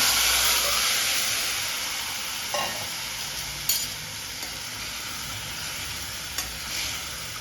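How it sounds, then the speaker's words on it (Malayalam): Cooked tapioca goes into a pan of frying chilli masala for kappa masala, with a continuous close hiss and sizzle broken by a few sharp stirring scrapes and knocks. "ഇനി വേവിച്ച് വെച്ച കൊള്ളി ഇട്ട് കൊടുക്കാം"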